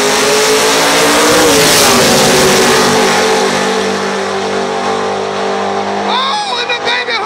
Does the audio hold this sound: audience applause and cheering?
no